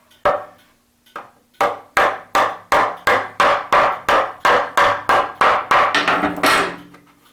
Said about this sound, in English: I use the headless pinner